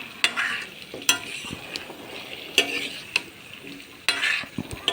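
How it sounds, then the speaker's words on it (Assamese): Pumpkin pieces sizzle in a pan for a pumpkin and chicken dish while a spoon stirs them, giving a soft frying hiss broken by several sharp scraping knocks against the pan. "ৰঙালাওখিনি দি অলপ এতিয়া ভাজি থাকিম"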